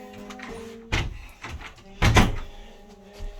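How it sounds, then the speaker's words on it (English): A door closes with two solid thumps about a second apart, near and moderately loud, inside a building that has stood for around 68 years, with low room noise in between. "And close the door."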